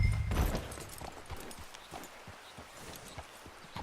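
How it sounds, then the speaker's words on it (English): Hooves clip-clopping from a horse in the video game Red Dead Redemption 2, a louder thump at the start followed by soft, irregular footfalls at middle distance. "Get a hold of that horse, Morgan."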